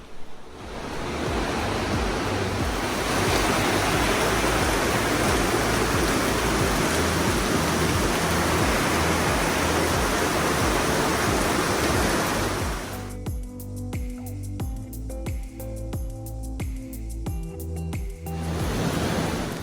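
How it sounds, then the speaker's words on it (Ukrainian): Loud, steady rushing water of a mountain river in the Partnach Gorge, Bavarian Alps, roars continuously, then around thirteen seconds tonal music-like elements enter over the torrent before the full rush returns. "Це потужна мелодія гірської річки."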